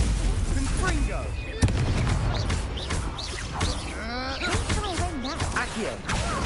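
Confringo blasting spells from the Hogwarts Legacy video game fire off as loud, punchy explosions and bangs, one sharp burst standing out amid steady crackling game combat noise and swooping magical effects.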